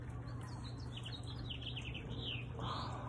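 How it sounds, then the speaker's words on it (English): Birds chirp and twitter outdoors in quick, faint calls over a steady low hum and background hiss, without any talking. "Oh, but listen to the birds."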